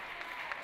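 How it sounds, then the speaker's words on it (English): Audience applause at an awards ceremony acceptance speech, a steady, dense wash of clapping with a couple of sharper bursts, fairly loud and continuous throughout. "applaud for Jeff."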